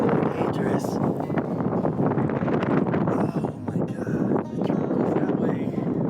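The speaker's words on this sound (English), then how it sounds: "The wind is just so dangerous." Strong wind buffets a lone climber close to a mountain summit, a steady roaring gust that fills the clip with broadband rush and brief dips, with talk mixed in.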